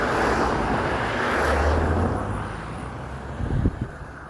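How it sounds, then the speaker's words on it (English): Roadside traffic rumbles along continuously with a low broadband roar, swelling as a vehicle passes and then easing off, with a few light thumps near the end. "Sorry for the traffic noise"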